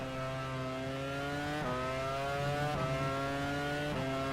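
A Formula One racing car engine in the F1 Challenge 99-02 game at the 2002 German Grand Prix whines loudly and steadily, rising in pitch and dropping sharply at three quick upshifts, with no talking.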